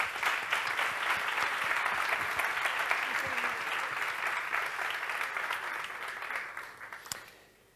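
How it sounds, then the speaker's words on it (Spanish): Audience applause at a sustainability conference after a speaker's presentation, sustained steady clapping from a sizeable crowd that slowly thins and fades away near the end, with a single sharp knock just before it dies out. "Fuerte aplauso para Vanessa"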